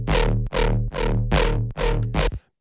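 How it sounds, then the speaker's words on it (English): A synth patch with a short Haas-effect stereo delay, feedback turned down, plays a loud series of six repeated swelling notes in steady rhythm, each with a bright attack that darkens as it decays, in a tech house-style production. "And then we got a little bit of a Haas effect kind of going here."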